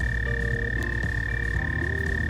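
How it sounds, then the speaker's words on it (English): West Virginia frogs croak in a steady outdoor chorus, a dense layered drone joined by a sustained high trill, with no voices. "listening to some of the frogs we found"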